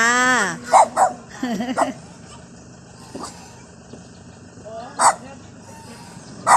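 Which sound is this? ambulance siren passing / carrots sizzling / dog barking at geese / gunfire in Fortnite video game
dog barking at geese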